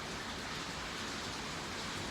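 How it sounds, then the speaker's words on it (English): Intense rain pours down steadily, a dense, even hiss of heavy drops that stays constant and fairly loud with no voices over it. "It is raining once again, and I have not seen rain this intense"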